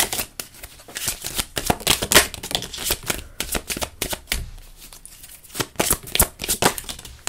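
Oracle cards from the Mercury Rams edition 2 deck shuffled by hand, a run of quick riffling flutters and soft slaps, close and fairly loud, pausing briefly midway before resuming.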